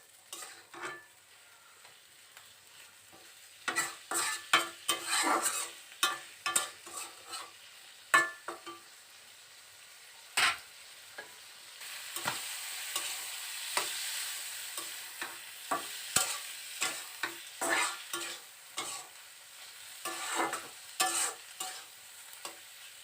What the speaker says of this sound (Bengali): এ পর্যায়ে মশলাটা কষিয়ে নেওয়ার পর দিয়ে দিচ্ছি আগে থেকে সেদ্ধ করে রাখা কলিজাগুলো।